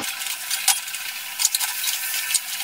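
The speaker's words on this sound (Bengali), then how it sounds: "গ্যাসটাকে লো টু মিডিয়ামে রেখে আমি চাল কুমড়োটাকে ভাজা ভাজা করে নিচ্ছি" Ash gourd fries in a pan with hilsa fish head over low to medium flame, a steady close sizzle broken by a few sharp clinks of a spatula stirring.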